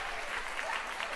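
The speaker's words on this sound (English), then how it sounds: "you're going to applaud louder and louder and louder and louder" Continuous applause from an audience at a family recovery expo and symposium, a fairly faint, even wash of clapping heard from some distance.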